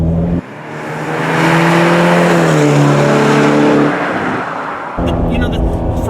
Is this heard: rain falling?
no